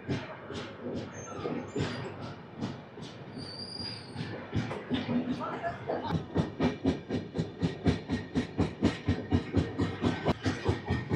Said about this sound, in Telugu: 1 minute హాల్ట్ తర్వాత భువనగిరి స్టేషన్ నుంచి మన ట్రైన్ అయితే స్టార్ట్ అయిపోయింది